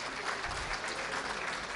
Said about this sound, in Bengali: আমরা আরেকবার একটু হাততালি দিয়ে ওনাদেরকে অভিনন্দন